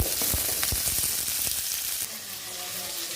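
Sliced onions sizzle steadily in hot oil in a pan while cooking for goat curry, with a few sharp crackles and spatters early on over a continuous close frying hiss, no talking.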